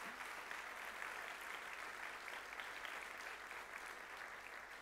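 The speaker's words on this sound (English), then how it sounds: "let's give them a round of applause" An audience at the BSides Wellington 2017 security conference gives a round of applause: continuous, even clapping that sounds distant and fairly faint, with no voices over it.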